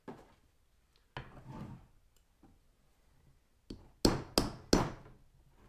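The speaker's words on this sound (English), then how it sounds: "I like to just take this flat spade bit, put it against in this corner, hammer down a little bit, and then they pop right out." A hammer strikes a flat spade bit to pop brake caliper pistons out of a Ford Focus RS caliper, giving sharp metallic knocks: a few scattered taps, then three loud, close blows in quick succession near the end.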